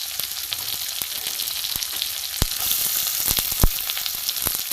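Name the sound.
chopped onion and grated garlic frying in pan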